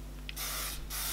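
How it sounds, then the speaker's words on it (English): Setting spray, not a strong-hold hairspray, hissing onto freshly curled hair in two short close bursts with a brief pause between them. "I'll just quickly spray a little bit of setting spray on there"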